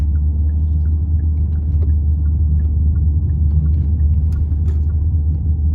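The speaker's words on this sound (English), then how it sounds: "And now you hear the car making some noise." A manual car in first gear during a driving lesson gives a deep, steady engine rumble with a low drone from inside the cabin, continuous and fairly loud, with a few faint ticks over it.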